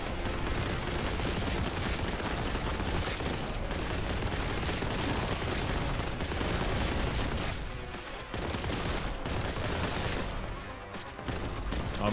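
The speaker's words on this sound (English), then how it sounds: "Let's hit him with our Omnisian blessed bolt gun." Heavy bolt gun fire in the Warhammer: Boltgun shooter, a loud, dense stream of rapid booming shots running almost unbroken, with a couple of brief pauses near the end.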